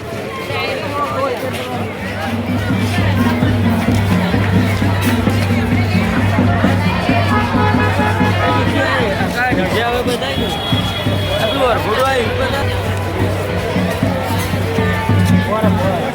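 A large crowd of devotees waits in line at a temple for darshan, producing a steady, dense murmur of many voices with shuffling and a low constant rumble throughout.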